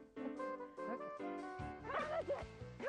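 A Samoyed dog pulling a sled gives a series of high, excited yips and whining barks, close and fairly quiet, coming in quick bursts.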